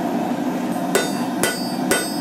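A hammer strikes steel on an anvil three times at a steady, even pace while tongs are forged. Each blow rings sharp and loud with no voices.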